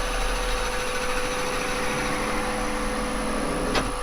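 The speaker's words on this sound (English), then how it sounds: "I might actually drill down at this" A drill bit bores into yew wood on a woodturning lathe, giving a steady, close machine whine and hum that runs unbroken throughout, with no talk.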